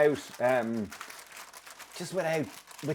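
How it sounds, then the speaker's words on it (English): Baking parchment laid over a homemade protein bar mixture crinkles softly in short rustling bursts, heard between and under a person's talking. "And then take a little bit of parchment on the top."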